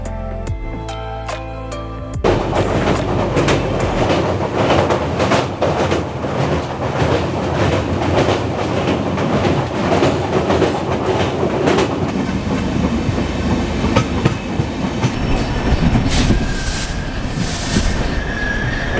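A Vistadome glass-coach train in the Dooars runs past loudly with rhythmic wheel clatter and squealing that hold steady, after a brief bright musical tone at the start.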